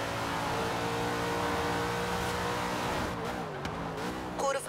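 A Dodge Dart engine straining at top speed in the Forza Horizon 4 racing game, a loud steady high-revving drone that wavers briefly before a tire squeal near the end.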